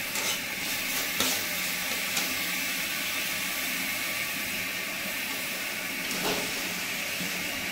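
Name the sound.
fried potatoes added to frying spice masala, sizzling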